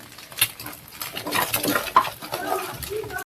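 Fried egg being stirred into noodles in a pan, with soft scraping and clinking of a utensil against metal over a faint sizzle, close and moderately loud for a few seconds.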